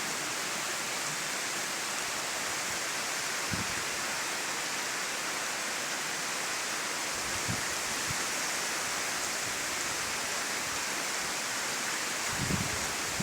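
Steady, loud roar of cyclone wind and heavy rain in Bhadrak district, Odisha, a dense unbroken wash of noise with a few faint thumps and no voices.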